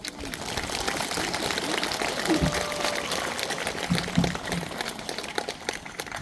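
A Buddhist pilgrimage service congregation claps in a soft, dense wash of applause that stays even throughout, somewhat distant and indistinct, with faint voices underneath.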